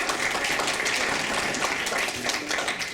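An audience applauds at a live event, a dense, loud, steady wash of clapping from many hands that holds throughout.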